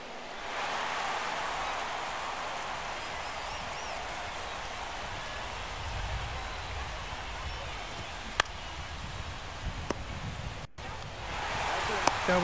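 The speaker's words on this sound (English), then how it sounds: "And rainy Detroit." Rain falls over a ballpark in Detroit during a baseball game in MLB The Show 23, a steady, dense hiss that fills the whole stretch at an even level, with a couple of brief clicks near the end.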